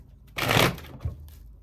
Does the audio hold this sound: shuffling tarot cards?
yes